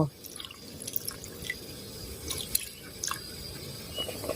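Lime juice dripping and trickling into a pot of southern Thai sour mullet soup, with close, fast liquid drips and splashes over a steady bubbling, watery background.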